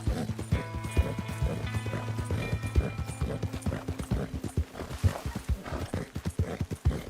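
A horse in the video game Red Dead Redemption 2 gallops hard, with rapid rhythmic hoofbeats and heavy snorting breaths throughout, loud and close, with a low voice faintly underneath.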